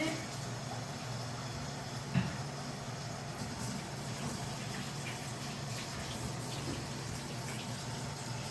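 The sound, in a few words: water running from tap while washing hands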